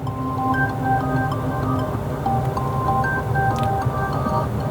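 A Neta V-II electric car's artificial pedestrian alert tone plays as a looping electronic melody of short chime-like notes over a constant low hum, steady and fairly loud, with no talking.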